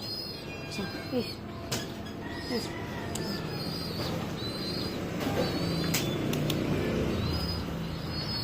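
Pigeons kept as racing birds coo in a loft, soft repeated low calls among other chirps and rustling, with a person talking over them and faint background noise.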